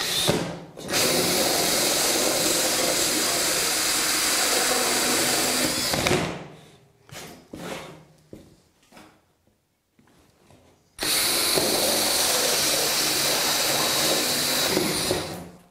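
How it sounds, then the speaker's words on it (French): A loud, steady whine of a power drill with a hole saw cutting through composite wall tile runs for several seconds, pauses briefly with some clatter, then resumes just as loud. "maintenant je perce avec une scie cloche au diamètre adapté"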